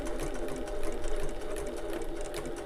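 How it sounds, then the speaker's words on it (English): A sewing machine whirs close and continuous, back-stitching at the top of a wallet piece and then sewing down a folded fabric edge, a dense rapid needle rhythm with no voices. "I'm going to back stitch a few times at the top here, just to know that that's definitely secure in there, and then sew all the way down this folded edge"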